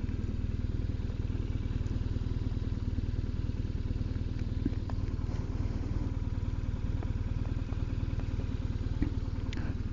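A motorcycle rides over loose gravel on a Scottish island road, its engine droning steadily beneath a constant crunching, clattering crackle of stones for the whole stretch.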